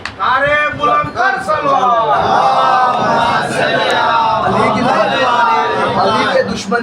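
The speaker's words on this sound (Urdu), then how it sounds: "سب کا مولا سب کا مولا نعرے بلند کر" A large crowd at a Shia majlis gathering loudly chants religious slogans in unison, a dense continuous wall of massed voices with shouted rises that never lets up.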